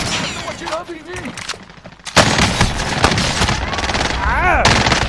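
Rapid bursts of video game gunfire in a shooter match, dense and loud after a quieter opening with game voices, sustained volleys continuing to the end.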